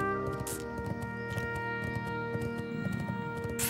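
Steady clip-clop of horse hooves trotting in World of Warcraft: Wrath of the Lich King Classic, under continuous background music, close and even in rhythm.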